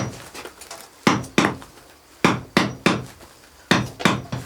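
Hammer strikes on the surface of an earthen wall being trued up before clay plastering, in a converted farm cooperative warehouse; about eight sharp, fairly close knocks in uneven pairs and singles, with no talking.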